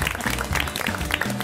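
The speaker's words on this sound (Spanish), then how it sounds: "Pueden aplaudir y saludar." Cooking-show contestants on a Spanish-language competition clap together in a brief, moderate burst of scattered hand claps, with a low musical or studio hum underneath.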